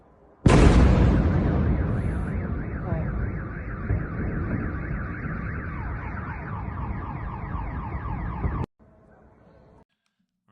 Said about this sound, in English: then soon after, bam, that massive explosion, most likely that strike on electrical substation